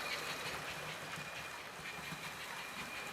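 A steady mechanical rattle and hum from a small HO-scale model train engine running continuously along a track, shaking on the rails while pulling a long train, with fine rapid vibration throughout and no voices.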